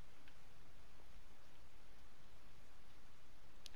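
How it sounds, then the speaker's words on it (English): Steady rain ambience inside the video game Super Animal Royale, a soft continuous hiss of falling rain with a few faint clicks, heard alone without talk. "Sounds like the rain muffles you even more when you're sneak dodging."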